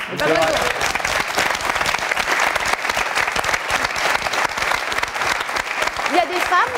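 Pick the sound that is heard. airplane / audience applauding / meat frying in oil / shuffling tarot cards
audience applauding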